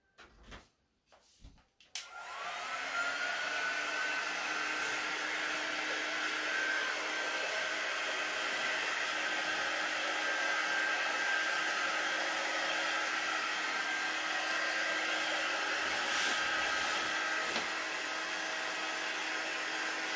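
A hair dryer blows on a strawberry-themed patriotic floral centerpiece. After a few soft knocks it switches on and runs as a loud, steady whir with a faint high whine, holding continuously to the end.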